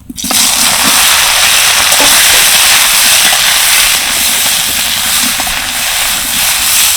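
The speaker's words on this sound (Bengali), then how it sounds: "এবার দিয়ে দিচ্ছি ম্যারিনেট করা সয়াবিন" Marinated soybeans fry in hot oil in a wok with a loud, steady sizzling hiss that runs unbroken from start to finish, with no talking.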